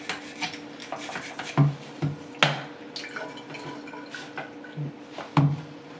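A brush scrubs paint sprayer parts at a sink, irregular rubbing strokes and a few sharper knocks among faint dripping water, close and fairly quiet.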